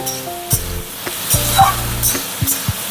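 Potatoes and onion fry in oil tempered with nigella seeds, a soft continuous sizzle under several knocks and scrapes of a spatula against the pan, close by.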